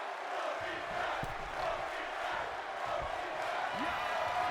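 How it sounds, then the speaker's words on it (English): Wrestling arena crowd in WWE 2K26 chanting, a dense, steady roar of many voices filling the space, with a few sharp impact thumps scattered through it. "The crowd chanting holy crap"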